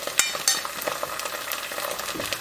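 Onion, ginger and garlic paste fry in a hot pan with a dense, continuous sizzle, broken by a couple of sharp clinks near the start and light stirring noises throughout.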